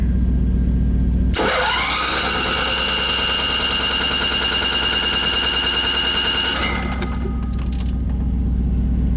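A motorhome truck engine with electrical problems cranks and catches, then runs with a loud, rough mechanical roar for several seconds before cutting back to a low idle hum.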